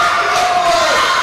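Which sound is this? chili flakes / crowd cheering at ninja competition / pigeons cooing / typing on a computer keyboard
crowd cheering at ninja competition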